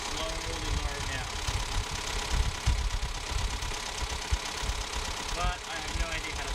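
A car engine idles with a steady low rumble and faint knocking, continuous throughout, with some clanking and faint voices in the background.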